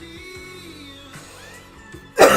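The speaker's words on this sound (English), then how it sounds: "Sorry about the cough." A single person coughing near the microphone from someone recovering from COVID and asthma, a sharp burst at the end over quiet background music.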